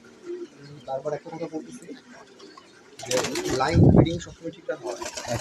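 Pigeons of matched good bloodline cooing nearby in soft repeated low calls, with a burst of flapping or handling noise midway and people talking over them.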